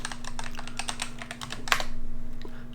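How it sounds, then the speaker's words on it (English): Rapid keystrokes on a computer keyboard, steady clicking at close range over a low electrical hum, with no voices. "you can type what kind of background you want"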